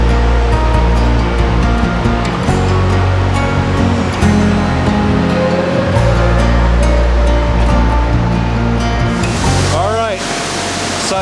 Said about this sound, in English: Evolution Creek Falls